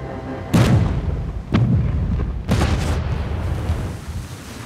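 Heavy naval guns of Allied warships firing on the Normandy coast at dawn, three deep booming blasts about a second apart, each with a rolling rumble that lingers between shots.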